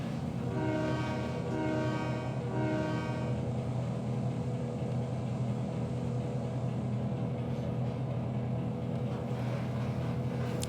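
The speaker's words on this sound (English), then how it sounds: "in the far distance, that's Tasha Yar with the GP9s pulling into town with the empty loads" Model railroad scene with GP9 locomotives pulling a train of empty cars into town, heard as a steady rumbling rail sound with horn-like tonal blasts early on, distant and continuous.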